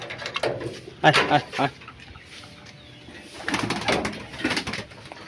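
Pigeons, released female birds being fed rice mixed with sour yogurt and turmeric, coo softly in bursts nearby while a person repeatedly calls to them.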